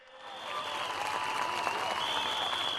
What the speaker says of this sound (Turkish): Bir kuvvetli alkış TL2'ye.